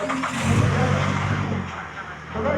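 A Toyota Celica rally car engine revs loudly close by at a rally event in Japan, a steady throaty drone that swells and eases over a few seconds, with voices faintly mixed in.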